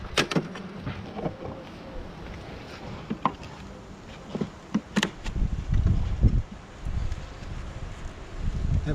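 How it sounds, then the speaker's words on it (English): Honey bees buzzing around a beehive super during a mid-April hive inspection, a soft insect hum mixed with scattered rustles and wooden knocks from handling the frames. "but the bees are up in this super."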